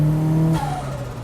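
Turbocharged all-wheel-drive Subaru WRX STI driving on a snowy road, a steady loud engine drone that changes pitch partway through as the car shifts or eases off, heard close and alone.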